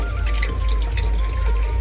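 Water runs steadily from a water supply tap at 2 a.m. with a constant splashing gush and a low rumble underneath.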